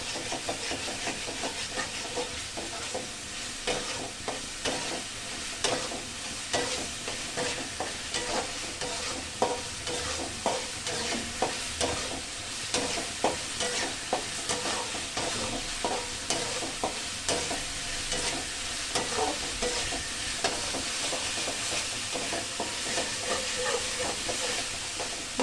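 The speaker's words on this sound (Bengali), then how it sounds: "মশলাটা একটু ভালো করে কষিয়ে নিতে হবে।" Spice paste for katla fish curry frying in oil, stirred with a steady, rhythmic scrape of the spatula over a continuous loud sizzle, repeating for a long stretch with no talking.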